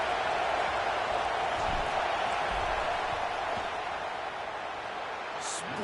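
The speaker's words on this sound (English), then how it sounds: "This crowd trying to do its part to get inside the kicker's head." Stadium football crowd roaring steadily before a field goal kick in an Oregon game, a dense, loud and continuous wash of massed voices with no pauses, echoing across the whole stadium.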